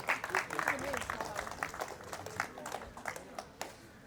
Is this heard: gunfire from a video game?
no